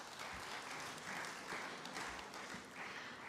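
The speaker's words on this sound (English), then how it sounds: "A big round of applause for Pema Chodron once again." Audience applause at a youth forum after a student speaker, a soft, distant wash of steady clapping with slight swells, quiet and continuous.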